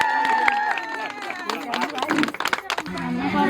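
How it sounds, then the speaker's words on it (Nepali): Scattered clapping among guests at a Nepali wedding, several claps amid lively chatter and voices, with people talking throughout. "ताली बजाऊ"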